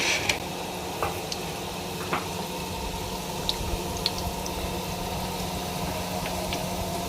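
Potato donuts fry in hot oil with a steady, close sizzle broken by scattered small pops and crackles that keep on without a break, and no one speaks.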